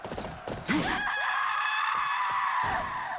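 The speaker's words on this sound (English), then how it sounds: "Yeah, the scream is insane" A character in Fire Emblem: Three Houses lets out a death scream: a piercing, drawn-out cry after a couple of short sharp hits, holding a strained pitch for several seconds.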